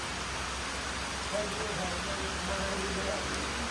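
Constant rain patters and hisses evenly throughout, with faint voices murmuring under it.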